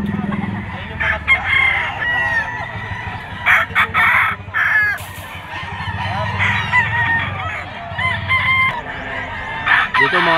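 Gamefowl roosters of the Raptor Sweater bloodline crow loudly and repeatedly at a busy pet market in Bocaue, Bulacan, with clucking birds all around and someone talking over the noise.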